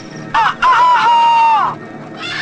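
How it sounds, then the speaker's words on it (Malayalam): A chicken gives a loud, drawn-out squawking call, two sharp bursts followed by a long wavering cry close by, with brief quiet before and a softer rustle after, in a comedy scene at a military camp. "അതൊരു കോഴിയാണ് സാർ."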